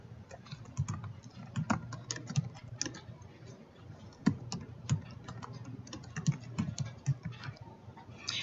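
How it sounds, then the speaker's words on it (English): Keys clack on a computer keyboard in quick irregular bursts of soft close taps with short pauses between runs, quiet and without voices. "I'm going to type this information in."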